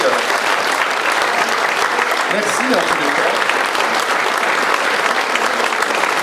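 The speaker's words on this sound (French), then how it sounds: "Applaudissez longtemps" Audience applause at a literary award ceremony, a loud, dense burst of clapping from a crowd that fills the space continuously, with a voice speaking briefly in French over it.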